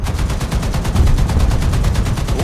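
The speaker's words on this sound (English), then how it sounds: "those bullets are ricocheting on the plane?" Rapid machine-gun fire during anti-aircraft action in War Thunder, with bullets striking a plane: a loud, evenly spaced stream of about eight shots per second that runs unbroken throughout.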